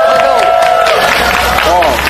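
Clapping from a crowd at an outdoor political rally against a trade agreement, a short burst of applause mixed with crowd noise and a voice over a loudspeaker.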